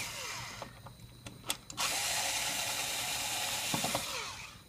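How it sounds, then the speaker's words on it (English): Screws being backed out of a relay on a 520MD positioner, a run of close, dry metallic ratcheting clicks from a hand tool, with a louder steady stretch of turning noise and a few sharp ticks near the end. "this is how you take out a relay. So you just take out these two screws."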